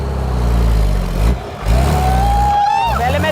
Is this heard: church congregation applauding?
no